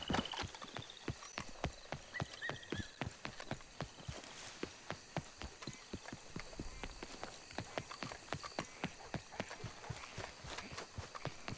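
Horse hooves in Red Dead Redemption 2 clip-clopping in a steady walking rhythm, close and fairly quiet, with faint game ambience behind.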